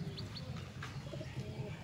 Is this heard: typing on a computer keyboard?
no